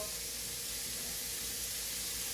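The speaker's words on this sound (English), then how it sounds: "Love that sizzle." Burger patties sizzling in a hot pan, a steady, faint broadband hiss and crackle running continuously without talk.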